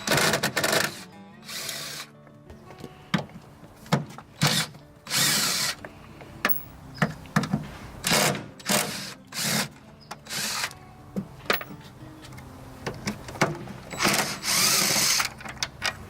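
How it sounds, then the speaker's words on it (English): A power driver runs in short bursts as it unscrews the Torx screws on a Hummer H2 brake light, with repeated whirring pulses broken by brief pauses and clicks, close and fairly loud. "you need a Torx driver. It has 4 screws, 1, 2, 3, and 4. And we're going to open these"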